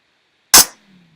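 A single sharp, loud snap immediately trails into a short, low rumbling boom that fades quickly.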